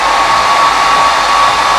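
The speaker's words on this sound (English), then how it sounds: "I have my dryer on cool air, by the way" A hair dryer blowing on its cool-air setting, a loud steady whooshing hum from close by that holds unbroken throughout.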